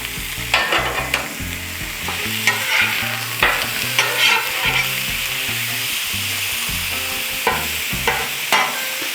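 Steak sizzles loudly on a Blackstone griddle, a steady close frying hiss broken by scraping and stirring of a metal spatula, with no talking.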